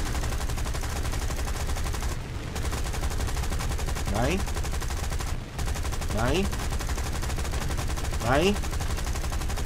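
Machine guns in War Thunder rattle in a steady, continuous stream of rapid fire, with a few descending whistling sweeps cutting through. A voice briefly exclaims over the gunfire.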